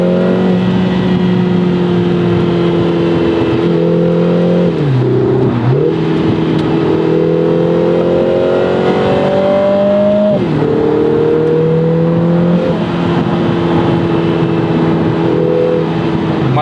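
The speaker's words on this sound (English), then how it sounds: "4-cylinders do sound good. I mean, they can sound good, and especially with these turbo sounds, it is absolutely awesome." A Lotus Emira First Edition with a turbocharged four-cylinder engine revs hard and close, pitch climbing through gears with sharp dips at shifts, accompanied by a loud, sustained, unbroken engine drone.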